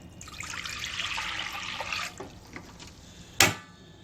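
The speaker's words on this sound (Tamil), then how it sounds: "1 கப்பு தண்ணி ஊற்று." A cup of water poured into a cooking pot for ragi kool, a steady broadband trickle and splash for about two seconds, then quieter drips and a brief sharp clink near the end.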